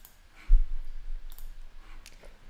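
A single mouse click on a button sounds close and sharp, followed by quiet room tone.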